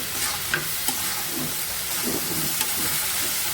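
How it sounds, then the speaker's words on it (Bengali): Pointed gourd and potato fry in a pan, with a constant close sizzle and hiss broken by a few soft clinks and scrapes of a utensil. No one speaks. "আর এই যে ভাজি করতেছি পটল আলু দিয়ে"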